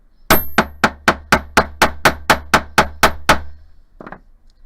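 A hammer strikes wire to flatten it for beaded hoop earrings, eleven sharp, evenly spaced metallic blows in a steady rhythm, close and loud, followed by a faint lighter tap after a short pause.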